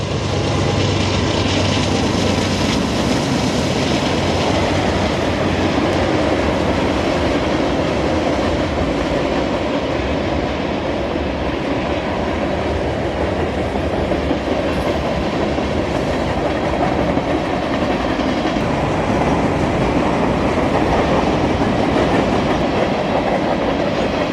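A freight train rumbles past on a single-track overpass with a steady roar and rhythmic wheel clatter, loud and close throughout, no voices.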